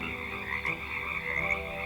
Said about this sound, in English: you don't normally hear frogs croaking